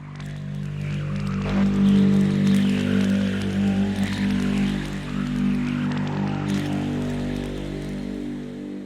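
A Serum synth preset, Rhythmic Black Hole, plays dry without chorus: a dark, dense sustained drone of low tones with a shifting, pulsing texture above, steady and fairly loud with no voices.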